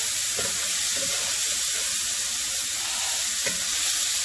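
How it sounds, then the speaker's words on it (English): Mushrooms fry in venison fat in a pan while being stirred constantly, giving a steady close sizzle throughout with a few faint scraping knocks of the utensil. "And just keep stirring this constantly"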